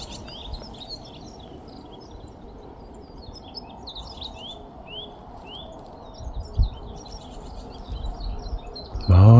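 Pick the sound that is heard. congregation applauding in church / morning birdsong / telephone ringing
morning birdsong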